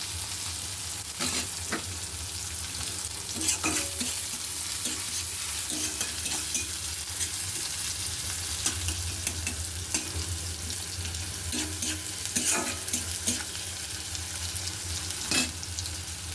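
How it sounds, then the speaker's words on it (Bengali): Onions fry in a pan with a steady close sizzle, punctuated by repeated sharp clicks and scrapes of stirring spread across the whole stretch. "পেঁয়াজটা আমি একটু সামান্য ভাজা ভাজা করে নিচ্ছি।"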